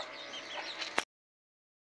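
Hens cluck in a poultry shed, a short run of close, moderate clucks lasting about a second, then silence broken by a brief sharp knock at the end.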